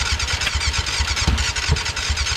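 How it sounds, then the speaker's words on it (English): A 600cc motorcycle engine with a carburetor problem runs loud and steady up close, a rough continuous rumble with uneven throbbing and a couple of sharper pops from the exhaust near the middle. "She's shooting out the exhaust."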